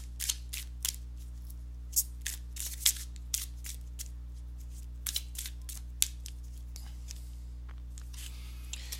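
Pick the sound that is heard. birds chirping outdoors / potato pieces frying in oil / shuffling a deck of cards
shuffling a deck of cards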